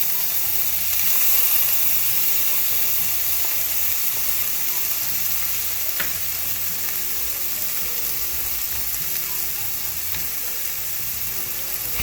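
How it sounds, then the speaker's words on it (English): Chopped onion and a pepper frying in heated oil in a skillet, giving a loud, steady, dense sizzle that holds evenly throughout with no talking. "I have my oil heated up in my skillet here. I'll move this all around. And I have half an onion and 1 pepper that I'm going to add in here."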